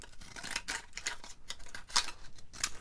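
Fancy scissors cutting paper on a crafting desk, a quick run of crisp, close snipping and rasping strokes in an uneven rhythm, with no talking.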